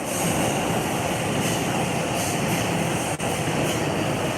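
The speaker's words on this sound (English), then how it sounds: "And there's a train going by above it." Train rumbling steadily overhead along Tokyo's Ginza corridor restaurant alley, a continuous loud roar of rolling wheels and wagons filling the space without pause.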